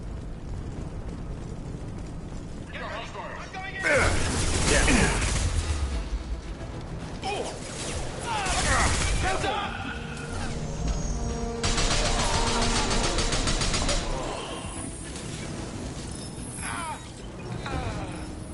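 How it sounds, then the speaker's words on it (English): Gunfire and blasts as Blue Suns mercenaries and Vorcha shoot in Mass Effect 2: loud bursts, booms and mechanical clatter in uneven waves, with dense stretches of firing and eruptions. "Blue Suns and Vorcha shooting anything that moves"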